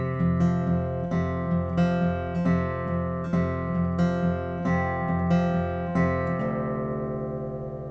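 Acoustic guitar picks the intro phrase of a song, a steady repeating arpeggiated pattern of plucked notes, close and clear, ending on a ringing open low string that fades out alone.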